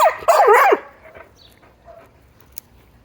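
A dog lets out a short burst of loud, close barks and yelps right at the start, then falls quiet with only faint background noise remaining.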